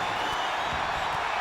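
A wrestling arena crowd in WWE 2K25 roars with a steady, dense wash of cheering and clapping, loud and continuous throughout, with no individual voices standing out.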